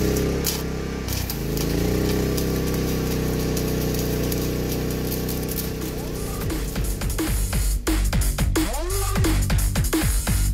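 A petrol generator runs steadily for a small welder in an outdoor workshop, a loud continuous engine drone with a few sharp clicks and bursts near the end, no talking.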